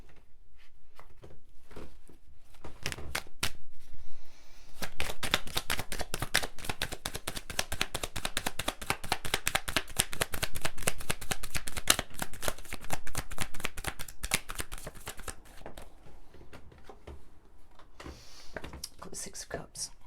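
Tarot cards being shuffled continuously, a dense rapid run of soft papery flicks and riffles filling most of the stretch, close and steady, with brief pauses near the start and end.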